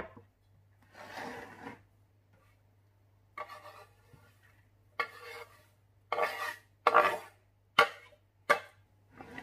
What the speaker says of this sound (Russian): это все хорошо перемешаем